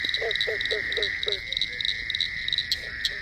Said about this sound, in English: what I'm listening to tonight is a very rare, it's the most rare frog in